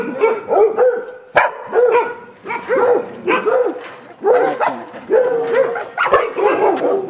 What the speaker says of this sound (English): I see some little puppies lined up over here.